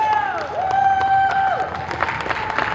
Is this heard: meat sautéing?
no